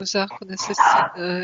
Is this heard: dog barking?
yes